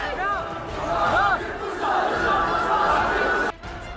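An angry crowd in Kashmir shouts slogans in support of militants, a dense roar of many raised voices with wavering chant-like calls, loud and continuous before cutting abruptly near the end.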